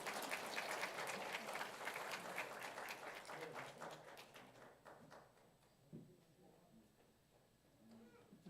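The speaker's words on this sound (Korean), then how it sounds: "우리 자매님이 인사할 때 여러분 다시 한번 뜨겁게 박수하도록 하겠습니다" A church congregation at a Sunday morning service claps, a dense patter of hands that is strongest at first and then thins to scattered claps and faint room noise, fairly distant.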